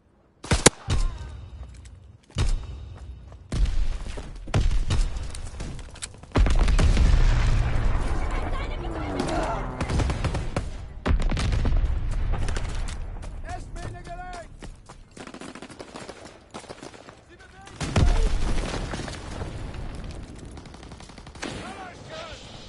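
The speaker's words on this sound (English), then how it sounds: "Fighter pilot inbound, strafing the target." Aircraft strafing run in a video game, with bursts of rapid gunfire and booming impacts spread through the stretch, alongside game noise and mechanical clatter.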